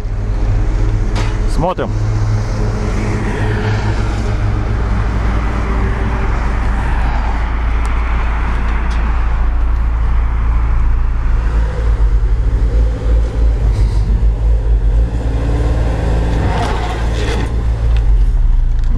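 Renault Duster with a 2.0-litre engine and a full rear differential lock driving off-road, a loud, continuous low engine drone close by with rough, uneven strain, while people speak over it.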